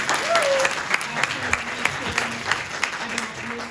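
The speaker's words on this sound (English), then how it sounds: "please give them a round of applause." An audience at the 2023 Broome County MLK Commission ceremony applauds elected officials, including Binghamton City Council members: a brief burst of indoor clapping that starts full and thins into scattered claps.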